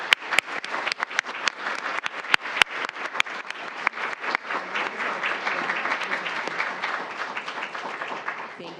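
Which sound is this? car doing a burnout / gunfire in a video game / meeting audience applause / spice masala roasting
meeting audience applause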